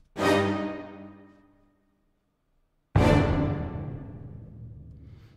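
Two big, dramatic orchestral hits, each ringing out and decaying slowly, separated by a brief silence; no talking.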